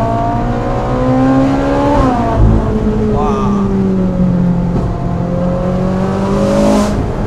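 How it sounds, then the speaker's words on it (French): A Ferrari 458 Spider engine pulls hard through rising and falling revs, steady and close, with a blowing rush under throttle and a voice speaking over it partway through. "quand tu mets de la pression sur l'accélérateur, ça fait ce bruit de souffle"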